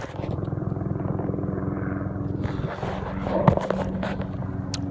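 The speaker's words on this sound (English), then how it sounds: "There's Black Hawk helicopters flying over in Hastings, Minnesota." Black Hawk helicopters pass overhead in Hastings, Minnesota, a steady rumbling drone at moderate distance that swells slightly, with a faint voice over it.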